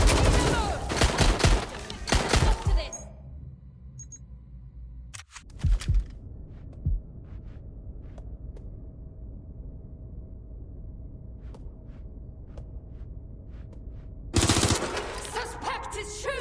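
A shooting suspect fires in the video game Watch Dogs Legion, a dense loud burst of gunfire at the start, then a quiet stretch with scattered faint clicks and thuds before another loud burst near the end.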